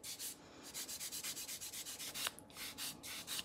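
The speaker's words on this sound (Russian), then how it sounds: "Выполняю шлифовку по поверхности" Nail buffer rubbing over a gel nail surface during a gel tip correction, a quick, even run of soft, close scratchy strokes with no talking.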